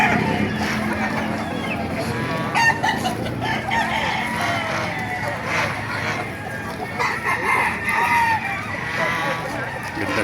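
At a busy outdoor chicken market in Baliuag, Bulacan, roosters crow repeatedly and chickens cluck amid crowd noise, with people talking throughout and several overlapping calls near and farther off.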